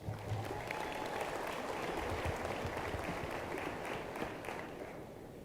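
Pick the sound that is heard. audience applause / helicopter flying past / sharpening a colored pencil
audience applause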